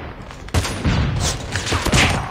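Sniper rifle fire in Call of Duty Mobile: a sharp shot lands early, then heavier bursts and booms follow, with game ambience rolling between them.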